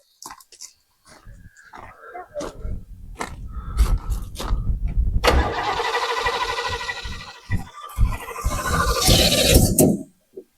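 A 1966 Chevelle being started after winter storage following a fuel and filter fix: starter cranking, then the engine catches and runs with a loud, uneven idle and revving bursts, close by.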